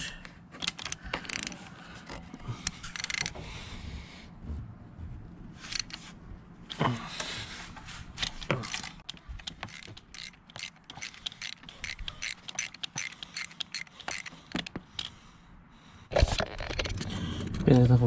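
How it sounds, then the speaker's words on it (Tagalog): A 10mm ratcheting socket wrench backs out screws during a spark plug job, giving repeated quick clicking runs of the pawl in bursts, close and crisp, with brief pauses between strokes. "socket wrench."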